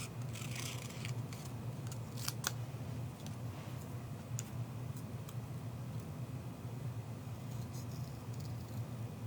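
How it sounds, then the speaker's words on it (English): Scissors snipping through a paper card piece for a handmade card, a few sharp close cuts clustered near the start over a steady background hiss. "And I'm gonna cut this one out."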